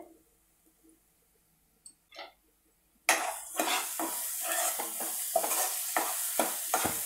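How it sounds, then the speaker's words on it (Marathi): Onions being stirred and sautéed in a pan with salt, starting near-silent with a couple of faint scrapes, then breaking into a loud sizzle punctuated by rhythmic spatula scrapes and stirs. "व्यवस्थित असं परतवायचं आहे आपला कांदा"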